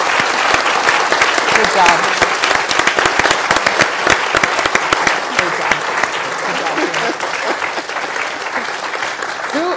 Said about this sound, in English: Round of applause, big ladies.